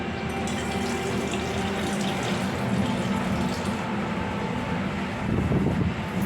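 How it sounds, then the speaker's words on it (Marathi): Water pours steadily into a bowl of semolina in a continuous splashing stream, with a slight surge near the end. "आता याच्यामध्ये मी पाणी घालणार आहे"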